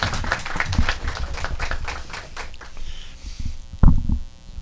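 A seminar audience breaks into lively applause, a thick stretch of rapid hand claps that thins toward the end, with a few louder claps and a brief thump near the close.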